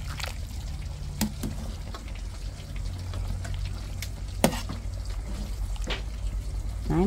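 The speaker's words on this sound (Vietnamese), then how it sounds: "Giờ múc canh ra để dọn cơm ăn." Vietnamese fish soup with water celery, tomato and pineapple being ladled out of a pot in a home kitchen, soft liquid trickles and pours with a few sharp clinks of the ladle over steady low background hum.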